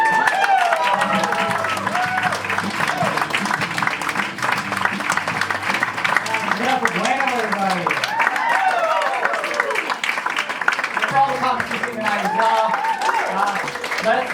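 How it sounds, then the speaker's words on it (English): Audience applause at a comedy show, steady and fairly loud for the whole stretch, with crowd voices and chatter mixed through the clapping. "Let's do a round of applause for Rob."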